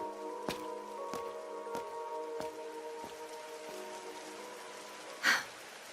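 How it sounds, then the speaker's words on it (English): Steady rain patters in the video game Trails through Daybreak under a sustained musical drone, with a few sharp ticks at regular intervals and a brief louder splash near the end. "Why'd it have to rain?"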